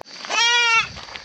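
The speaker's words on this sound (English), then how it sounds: "Here's a good goat." A goat in a village at Ramkot, Bandipur, Nepal lets out a single close, loud bleat of about half a second, followed by quiet background.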